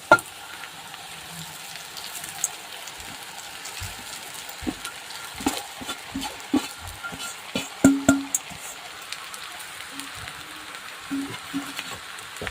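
Kande pohe with onions being stirred in hot oil in a pan, a steady faint sizzle broken by frequent sharp scrapes and clacks of the spoon, close and without talk.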